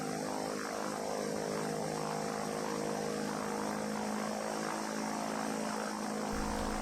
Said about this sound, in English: this is the first run up of the engine